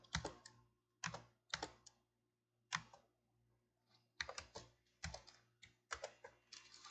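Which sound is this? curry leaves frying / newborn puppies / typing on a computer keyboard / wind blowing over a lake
typing on a computer keyboard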